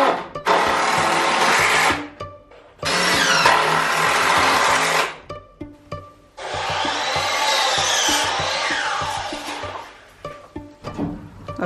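A power tool driving screws while barn stalls for livestock are built, three long loud whirring bursts separated by pauses and light knocking, close and without talk.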